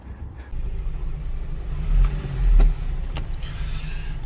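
An old Daedong 19 hp tractor, more than thirty years old and hard to start, cranks and catches, giving a low close rumble that swells in two short surges before settling to a rough idle.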